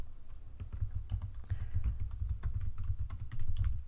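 Rapid typing on a computer keyboard, a close run of light clicking keystrokes over a low background hum, with no speech.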